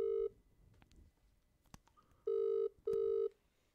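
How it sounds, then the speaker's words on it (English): Telephone ringback tones pulse on an outgoing call, three loud steady beeps with pauses between them and quiet line noise in the gaps. "see if he has the guile to answer his phone"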